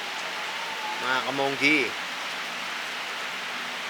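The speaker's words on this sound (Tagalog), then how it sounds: "Biglang umuulan kasi napakalakas." Heavy, sudden rain pours down as a steady, loud hiss that continues throughout, with a voice speaking briefly over it.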